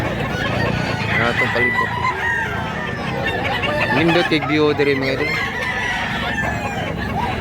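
Chickens cluck and a rooster crows repeatedly around an outdoor hillside spot, the bird calls rising over steady conversation from people talking nearby throughout.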